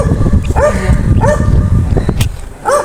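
A dog barks in loud, close bursts at a brisk irregular pace, each bark sharp and yelping, over a busy background of movement and noise.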